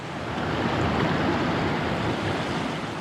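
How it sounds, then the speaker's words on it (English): Steady, loud rushing water at the South Fork of Citico Creek crossing after rain, a continuous broadband roar with no voices. "This is the first crossing of the South Fork of the Citico Creek."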